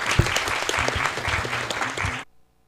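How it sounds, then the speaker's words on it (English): Dense, warm audience applause fills a room after a talk on greenwashing, loud and continuous for about two seconds before cutting off abruptly. "Warm applause."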